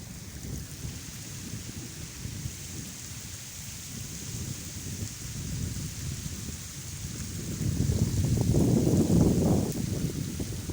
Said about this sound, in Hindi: ये इतनी बारिश है।